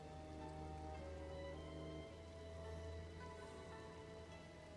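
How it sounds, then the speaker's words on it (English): Sudden rain falls steadily as a continuous, fairly faint patter on a surface, with a constant low hum underneath and no voices. "Apologies to everyone for the sudden rain."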